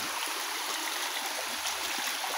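A waterfall in Calauag, Quezon rushes as a steady broadband hiss, close and continuous, with no voices.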